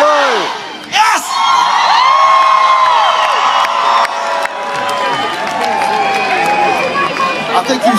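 A large outdoor crowd at a rock concert at a state fair cheers, whoops and shouts loudly and continuously, with screams rising over the roar.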